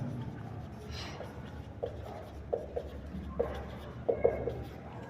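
A marker or chalk writing on a board during a maths lesson, with a string of short scratchy strokes in irregular bursts over faint room noise.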